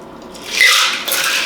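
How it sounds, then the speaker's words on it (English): An Outer Rim cocktail being poured into a glass, a short liquid splash and trickle lasting about a second, close and fairly soft. "Now one of the best parts, the pour."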